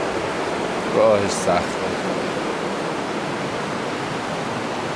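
Steady broadband rush of river water flowing beside a rocky path near the remains of a Sasanian bridge in Iran, continuous and close, with a brief spoken voice over it.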